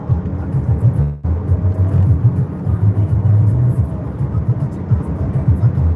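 A car driving on an open highway in Uganda gives a steady low engine and road rumble from inside the cabin, with a brief dip about a second in.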